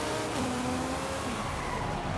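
Video game racing car with all-wheel drive and high power, engine revving steadily with tire squeal and skidding. A continuous, fairly faint engine drone runs throughout, with short rising whine tones and no talk.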